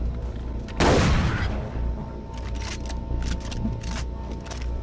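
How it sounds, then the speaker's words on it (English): A double-barrel shotgun fires once in Far Cry 3: Blood Dragon, a loud close blast with a short rumbling decay, followed by quieter clicks and scattered game sounds. "Ooh, double barrel. Cool. I don't even think I've used my shotgun to kill anything yet."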